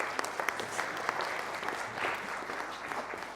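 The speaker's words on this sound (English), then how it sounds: "Another round of applause, please" An audience at a motivational talk claps steadily for a few seconds, the applause fairly distant and even, with a few sharper individual claps standing out.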